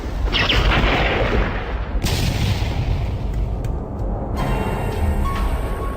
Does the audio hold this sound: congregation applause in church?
no